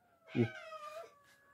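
A cat gives one short, loud meow with a rising, drawn-out tone, close to the listener and heard alone.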